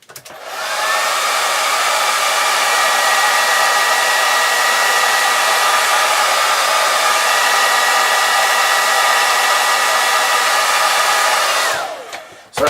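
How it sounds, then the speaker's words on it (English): A hairdryer blasts warm air over a freshly varnished 1:72 Airfix Lightning model aircraft, switching on with a rising whine, holding a loud steady blowing roar for about eleven seconds, then cutting off. "let's just give that a blast of the hairdryer and see what happens"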